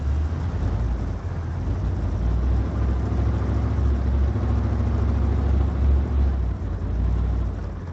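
Heavy armored vehicle engine running in the video game ARMA 3, a loud, steady low rumble and drone with slight surges, continuous throughout and heard on its own.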